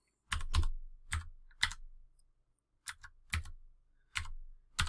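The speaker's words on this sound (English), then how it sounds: "And we'll type this password in." Password being typed on a computer keyboard for setting up MikroTik wireless network gear: several short bursts of close, crisp key clicks separated by brief pauses.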